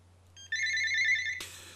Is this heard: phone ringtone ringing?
yes